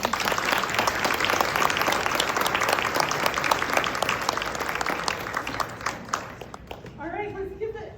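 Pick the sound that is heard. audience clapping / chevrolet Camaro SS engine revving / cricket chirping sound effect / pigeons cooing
audience clapping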